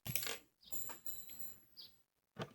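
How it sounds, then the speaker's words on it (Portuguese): A crochet hook for an amigurumi doll drops and hits a hard surface, giving several short, close, light clattering taps followed by a final tick. "Caiu minha agulha."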